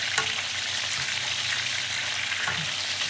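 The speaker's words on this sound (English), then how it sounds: "So we're basting that oil over." Food frying in hot oil while the oil is basted over it. A dense, continuous crackling sizzle holds a steady level from start to finish, close up with no voices.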